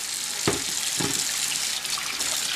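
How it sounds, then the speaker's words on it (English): Kitchen tap runs steadily into a sink while pasta is rinsed, a close, even hiss of flowing water with two brief splashy bursts. "So I'm going to let my water run until it's hot."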